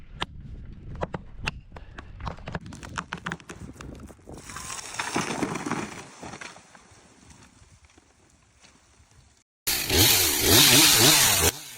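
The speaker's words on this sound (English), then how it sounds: "A lumberjack steps into the forest, armed with the powerful steel MS-362 chainsaw." An MS-362 chainsaw cutting into a tree trunk in a forest. Scattered sharp knocks come first, then a rising engine whine and hiss, a short pause, and finally a loud, dense snarl of the saw biting into the wood.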